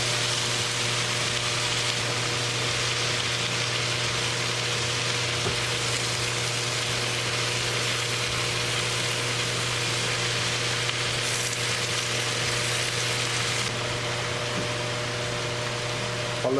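Spinach (palak) sizzles in a pot on medium heat as it is stirred and wilts, a steady close hiss of frying with a low constant hum beneath and occasional soft scrapes of mixing.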